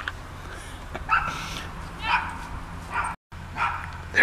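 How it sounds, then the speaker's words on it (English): Three neighbor dogs bark and yip repeatedly from a short distance outdoors, in irregular bursts with whimpering between them. "There they are. The neighbor dogs. There's three of them."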